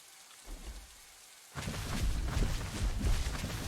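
Rain falling in The Isle survival game, a steady hiss that swells suddenly partway through into a louder, denser downpour with low rumbling thuds, no voices.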